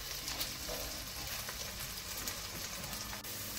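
Sofrito with celery frying in a pan, a close, continuous crackling sizzle with faint stirring scrapes, steady throughout and without voices.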